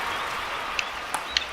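Crowd applause in the London 2012 Olympics video game, heard during a tennis match, forms a steady wash of clapping through the brief clip, broken by a few sharp clicks.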